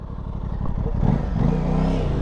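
A 2021 Aprilia RS 660 motorcycle in A2 version pulls away, its close engine moving from a throbbing low idle to a rising rev as it sets off, loud and without talk.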